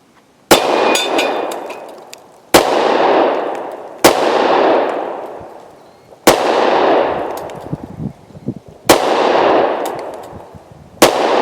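Six sharp, loud gunshots from a Smith & Wesson M&P Shield .40 pistol, fired singly with gaps of about two seconds, each crack trailed by a long outdoor echo.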